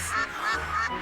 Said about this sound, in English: Look! Quacking flowers.